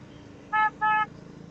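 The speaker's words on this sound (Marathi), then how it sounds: "ट्रॅफिक मधून काही पिछा सुटतच नाहीये, कंटिन्यू ट्रॅफिक" Two short, closely spaced car horn toots sound nearby in continuous road traffic during a long motorcycle ride, with a low steady rumble underneath.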